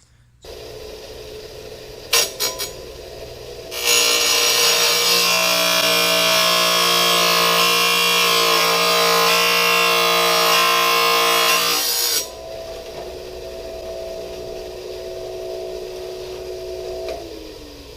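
A power saw cutting bathroom tile indoors, spinning up and then grinding loudly and steadily for about eight seconds before winding down, with no talk.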